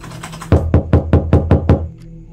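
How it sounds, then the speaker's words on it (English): Six firm, evenly spaced knocks on a door in the horror game The Horror Within, loud and close, quickly fading into quiet. "Who is knocking at the door this late?"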